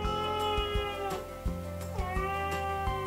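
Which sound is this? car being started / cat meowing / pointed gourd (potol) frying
cat meowing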